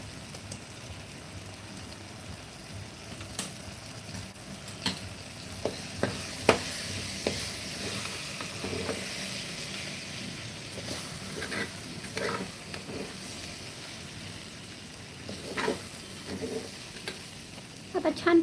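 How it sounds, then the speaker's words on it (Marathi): Rice sautéing in a pan for rajma rice, a soft continuous sizzle with scattered stirring scrapes and clinks running steadily throughout. "परतून घ्यायचं आहे आपल्याला"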